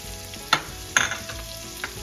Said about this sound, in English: We have the bacon grease in the bottom of the pan. It's very hot. To add the onion.